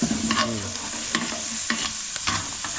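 Onion being sautéed for tinola in a pan over a wood fire, a loud close sizzle broken by several scraping stirs of a utensil at an uneven rhythm, with no talk.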